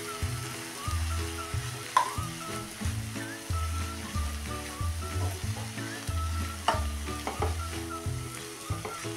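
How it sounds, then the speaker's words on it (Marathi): Cauliflower kheema is stir-fried with fresh grated coconut, coriander and chilli powder, making a steady sizzle. Rhythmic scraping strokes of a spatula against the pan repeat roughly every half second under it, with occasional sharper clinks. "एकसारखं चांगलं परतून घ्यायचं आहे"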